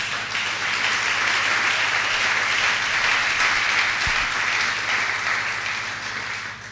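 A church congregation bursts into sustained applause, a dense, steady wash of clapping that holds for several seconds before easing slightly at the end.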